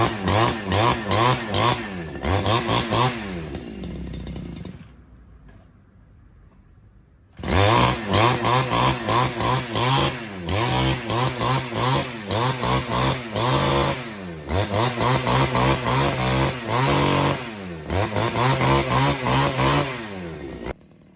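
Wasabi 411 two-stroke brush cutter engine starting and revving hard, a loud buzzing whine that rises and falls in repeated throttle bursts, with a short idle pause before the revving resumes.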